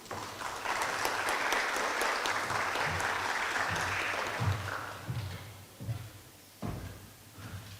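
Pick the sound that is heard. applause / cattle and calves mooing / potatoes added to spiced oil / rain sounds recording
applause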